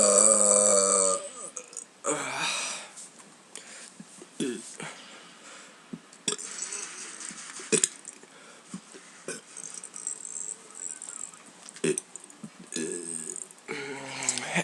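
Repeated human burps, loud and close, come in a string of separate bursts of varying length spread across the stretch, with short gaps between them and no talking.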